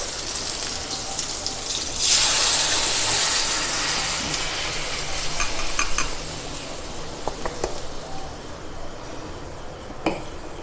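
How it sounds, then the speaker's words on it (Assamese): A loud whooshing splash as boiled lentils pour into chicken frying in a hot pan, then sustained sizzling with spoon scrapes and a few sharp metallic clinks. "এতিয়া মই বইল কৰি থোৱা মাটিদাইলখিনি ঢালি দিম এতিয়া।"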